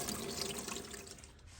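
Running water from a tap pours steadily to flush Home Depot sand, a close, continuous splashing hiss that eases slightly toward the end.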